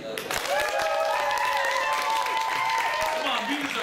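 An audience at a Mock UL event claps and cheers for a team, a sustained wash of applause with a loud voice shouting over it.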